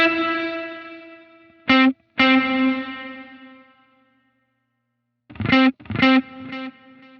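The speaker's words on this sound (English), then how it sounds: "You'll notice now, not my direct signal, but my delayed repeats now have reverb on them." Electric guitar notes played through a Line 6 Helix Heliosphere delay, with the delayed repeats carrying reverb; sustained chords ring out and decay, then a few sharp repeated notes trail off with echoing tails.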